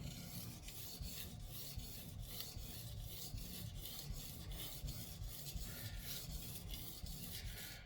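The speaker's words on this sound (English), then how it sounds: "We're not trying to sharpen the entire blade at once, just that little bit there." Knife blade rubbed along a 3000 grit whetstone: steady, quiet, rapid back-and-forth rasping strokes in an even rhythm, close up and continuous, no voices.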